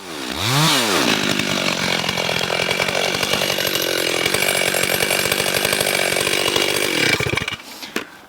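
A chainsaw revs up and cuts steadily through a standing dead ash tree near a farmhouse, loud and close for about seven seconds before dropping off and going quiet.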